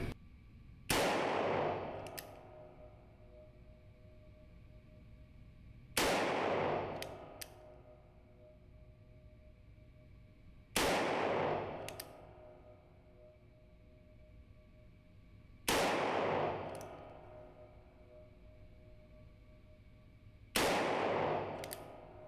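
An Uberti 1847 Colt Walker revolver chambered in .45 LC fired at a target about 15 yards away, five loud single shots spaced roughly five seconds apart, each a sharp crack with a long ringing decay.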